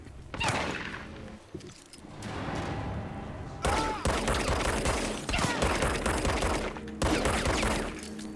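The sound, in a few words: gunfire shooting at a target in the video game Control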